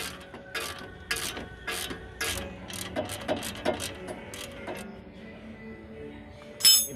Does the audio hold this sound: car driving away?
no